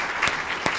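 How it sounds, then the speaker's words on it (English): Brief, soft wash of audience applause at a White House heritage month discussion, steady clapping with a couple of sharper claps standing out. "Can we have a round of applause for Kiran and thank her for all of her leadership?"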